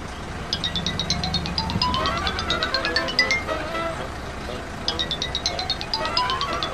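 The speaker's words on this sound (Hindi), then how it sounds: "सर आपका फोन बज रहा है" A mobile phone ringtone chirps in repeated bursts of rapid high beeps, pausing and then starting again, moderately loud beneath people talking and background traffic.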